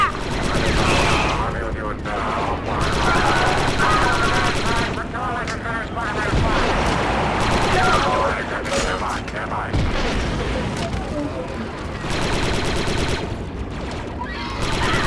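Enemy gun position firing in Star Wars Republic Commando, with continuous loud bursts of automatic fire and explosions in a dense, unbroken battle din.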